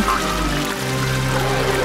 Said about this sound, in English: Water is splashing all over!